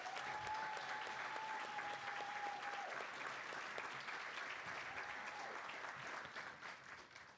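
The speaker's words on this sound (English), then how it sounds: "Please join me in a round of applause for Deputies Thomas and Borsick." At a jail bureau class graduation ceremony, a crowd applauds steadily for several seconds, a continuous wash of clapping that tapers off at the end, heard from a distance.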